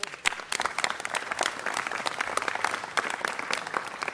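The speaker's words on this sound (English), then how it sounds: "Let's give them one more round of applause." Audience applause at a city council meeting, steady dense clapping from a seated crowd lasting the full few seconds, fairly close and even in loudness.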